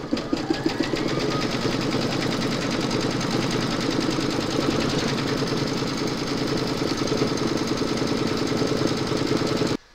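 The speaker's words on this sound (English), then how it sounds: "Load your thread colour for the quilting into your machine, and then you're going to stitch colour number 3." An embroidery machine stitching a quilting pattern in a single thread colour, a fast, even mechanical chatter running continuously at close range and stopping abruptly at the end.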